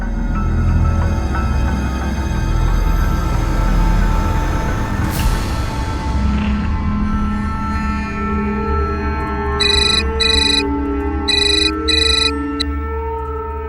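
A telephone rings in a Hindi TV crime-drama scene, giving several short, bright electronic ring bursts in quick pairs near the end over a steady background of music and room tone.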